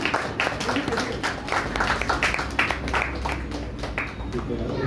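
Church congregation at a Sunday morning service claps for the children, a fairly soft, scattered patter of hands mixed with talking in the room.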